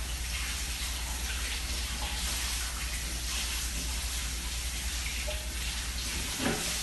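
Tap water runs steadily into a sink while a fish is rinsed for fish stew, a constant close hiss of splashing water with a brief clatter near the end.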